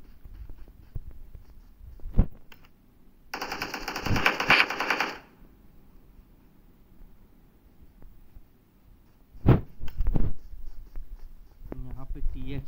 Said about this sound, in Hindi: डेड घोष यहाँ पे चार्ज कर दिए पिस्टल के साथ